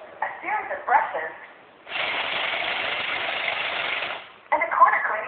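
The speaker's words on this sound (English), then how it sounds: "Roomba uses a vacuum, a series of brushes," A Roomba robot vacuum cleaner hums steadily with its vacuum and brushes running for about two seconds, close and fairly loud, set between stretches of a voice talking.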